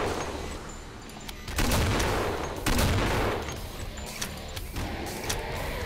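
Rapid bursts of gunfire in a competitive team shooter match, several overlapping shots and volleys rising in loud clusters over a steady, busy game background.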